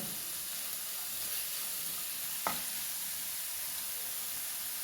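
Stirring drumstick flower thoran (murungappoo) in a pan, a soft steady sizzle with faint scraping and one brief clack of the spoon against the pan, close and alone with no talk.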